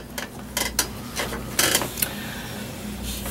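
A Consew 206RB industrial sewing machine runs in reverse, giving a quiet mechanical whir with a few short bursts of clicking and creaking, close by and with no talk over it.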